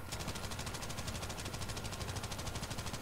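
Sustained automatic machine-gun fire in Battlefield 5, a rapid, steady stream of shots with no break, loud and close throughout.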